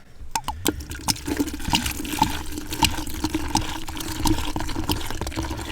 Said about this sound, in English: you want to pour it over the ice